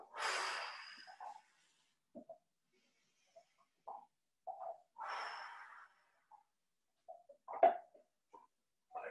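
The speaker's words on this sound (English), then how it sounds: "I want you to take two deep breaths here." Deep breaths during a seated stretching exercise for athletes, heard as several slow, close inhales and exhales with long quiet gaps between them and a few small snorting or clicking sounds.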